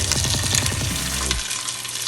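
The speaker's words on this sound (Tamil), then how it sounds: "அடுத்தது இந்த வெங்காயத்தையும் பச்சை மிளகாயும் அதிலே போட்டு நல்லா வதக்கிக்குவோம்." Onions and green chillies sauté in hot oil for potato masala, a close crackling sizzle with quick rhythmic stirring pulses that stops abruptly, leaving a softer hiss.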